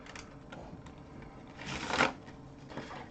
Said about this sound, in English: I will do some shuffling on camera here for you